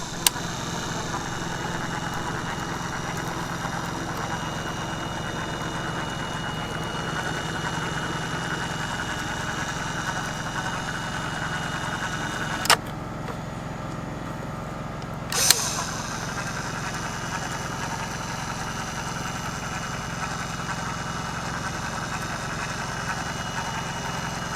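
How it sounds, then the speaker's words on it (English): Ryobi One+ battery caulk gun dispensing thick polyurethane construction adhesive, a steady close motor whir and hum that runs throughout, with two short clicks as the trigger stops and restarts the drive. "here's how well it dispenses thick polyurethane construction adhesive"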